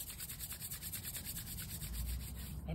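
Palms rubbing briskly together in a children's music class, a close, continuous soft rasping swish with a gentle back-and-forth pulse and no talking.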